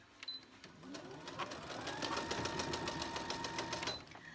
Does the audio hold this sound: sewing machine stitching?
yes